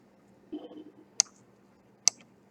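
A computer mouse gives two sharp, isolated clicks about a second apart, close and crisp against a quiet room, with a soft brief shuffle just before them.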